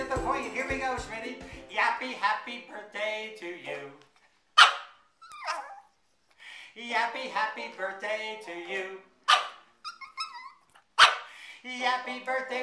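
A person sings a cheerful birthday tune while a small dog barks and yips in short, sharp bursts between and over the singing.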